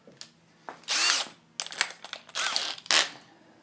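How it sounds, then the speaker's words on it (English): A regular handheld drill fitted with a small hole saw whirs in several short bursts, spinning up, biting and stopping again with brief pauses and light clicks between runs, close and fairly loud on a workbench. "So I'm just going to use a regular drill."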